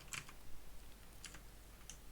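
Quiet clicks of a computer keyboard come in a few brief clusters against a faint steady room hum, with no voices.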